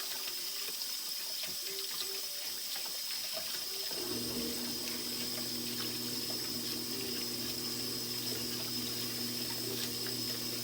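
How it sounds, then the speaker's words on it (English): Warm water runs steadily into flour for sopapilla dough, a continuous close pouring and splashing that starts partway through and holds at an even level, with no talking. "Now I'm going to add warm water to the flour so I can make my dough."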